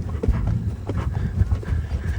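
A ridden horse's hooves trotting at a steady, rhythmic pace close by during a schooling session, with a low rumbling background and some scuffing.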